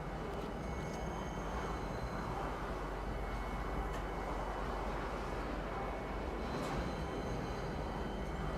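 A Lorville train in the video game Star Citizen runs with a steady, dense rumble and hum, constant and fairly loud throughout, with occasional faint high squeaks above it and no speech.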